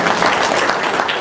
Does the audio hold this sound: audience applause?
yes